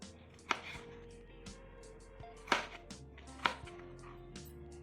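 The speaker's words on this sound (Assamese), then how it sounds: "মই বিলাহী গোটেইকেইটা মই একেবাৰে কাটি ল'লোঁ।" A knife chops tomatoes on a board for Assamese matar paneer, with a few sharp, separate strikes spread over several seconds under a quiet, steady background hum.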